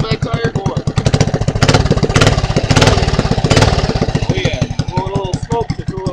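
A motorcycle engine running rich and blowing a little smoke as it warms up, with a steady, loud, rapid idle throbbing close by throughout, and people talking over it.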